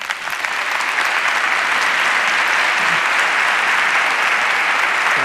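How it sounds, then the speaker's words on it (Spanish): Dense, steady applause from a conference audience greeting speaker Pedro Baños, loud and sustained from start to finish with no talking. "Por favor, un fuerte aplauso para Pedro Baños."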